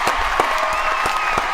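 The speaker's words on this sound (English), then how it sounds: "we have a whole applause section" A studio audience applauds steadily at close range, a busy wash of clapping with a few sharper claps breaking through, heard alone without talk.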